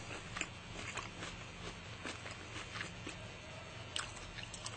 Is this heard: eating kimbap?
yes